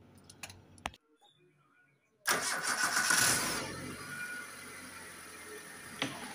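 An engine starter cranks briefly after some faint clicks, then the engine catches and settles into a steady idle, close by.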